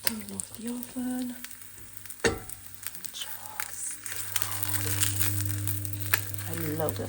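An egg sizzles and crackles as it fries in a hot pan, with occasional clatter of utensils and soft handling noises over a low steady hum.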